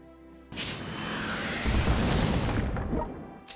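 Air attack bombs from a World of Warships aircraft carrier strike land as a sustained roar of heavy booming explosions, loud and close, swelling after a sudden onset and carrying on for several seconds without talk.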